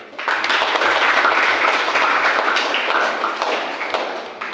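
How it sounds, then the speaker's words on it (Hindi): An audience in a college setting breaks into loud, dense clapping that rises quickly and holds steady for several seconds, thinning slightly toward the end. "ताली बजाओ।"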